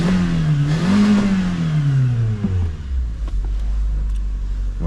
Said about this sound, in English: We'll give it a little rev here real quick.